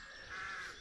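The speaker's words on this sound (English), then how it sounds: "That's the noise of the coot." A coot, a water bird in Irish wetland, gives a short, steady calling note lasting under a second, moderately loud and close, with no voices over it.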